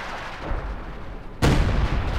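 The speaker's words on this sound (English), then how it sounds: "There we go, Howitzer firing away." A howitzer fires once with a sudden loud, broad boom partway through, over the steady rumble of a Company of Heroes 2 battlefield.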